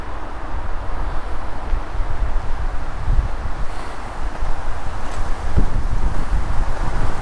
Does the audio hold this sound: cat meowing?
no